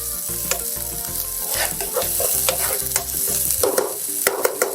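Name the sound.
seasonings sauteing in oil in a non-stick pan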